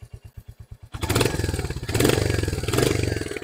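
A Royal Enfield Hunter 350 motorcycle exhaust ticks over in steady, even thumps at close range, then revs up hard into a loud, sustained roar that swells and eases in waves.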